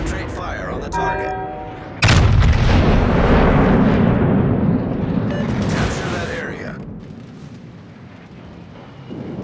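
Heavy naval artillery salvos in World of Warships from the battleship Yamato, a deep booming blast erupting after a quieter start, then a long rolling rumble that slowly fades, with game music and effects around it.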